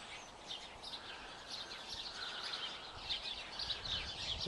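Small birds chatter and chirp steadily in a tree in a snowy garden, a busy layered twittering at moderate distance against faint background hiss.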